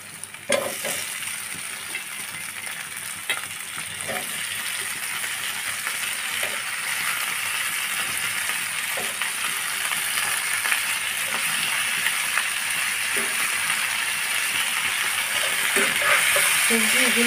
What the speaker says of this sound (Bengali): সবজিগুলা দিয়ে আমি ভালোভাবে নেড়ে চেড়ে মিশিয়ে ভেজে নেব।